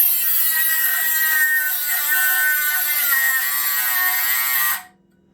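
Wen 23072 cordless rotary tool cutting: a loud, close, steady high-pitched whine that holds for several seconds, then cuts off abruptly.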